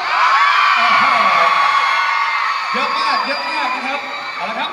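A crowd shrieks and cheers steadily throughout, loud and continuous, with someone talking faintly beneath the high-pitched screams.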